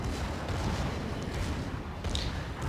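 Izumo battleship firing a main turret salvo in World of Warships, a dense, sustained rumble of heavy gunfire with a sharper burst near the end, loud and continuous throughout.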